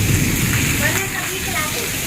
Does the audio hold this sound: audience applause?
no